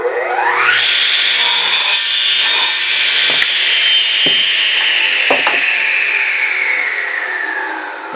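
Power saw cutting along a marked line through the top of a wooden guitar-building box, a loud steady whine with grinding wood noise that holds for the full stretch and tapers slightly at the end, punctuated by a few sharp knocks.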